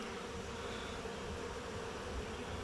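Honey bees buzz in a steady, close swarm drone around an opened hive during an inspection, a constant hum with no pauses and no talk.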